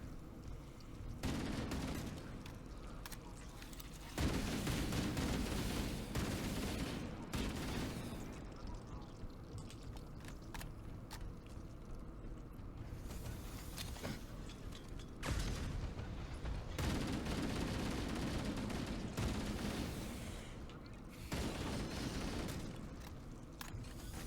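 Rapid bursts of plasma rifle fire in the Halo campaign, set against the Flood, come in repeated loud volleys with pauses between, mixed with booms, clanks and game noise, and a voice speaks at moments.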